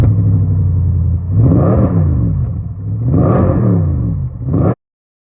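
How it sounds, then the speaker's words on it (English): A Maserati's 400-horsepower V8, derived from a Ferrari engine, revs hard twice, rising and falling in deep roaring sweeps, loud and close, then cuts off sharply. "This Maserati packs a 400 horsepower V8."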